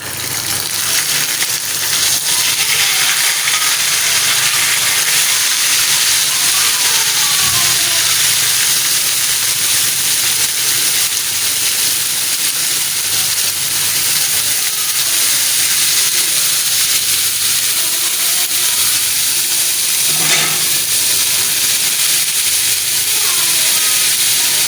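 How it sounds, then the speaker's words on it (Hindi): Minced meat keema sizzling loudly in hot oil on a tawa, a dense continuous frying hiss that stays strong and steady throughout. "तेल हमारा गर्म हो चुका है तो उसको डालेंगे कीमे को इसके ऊपर"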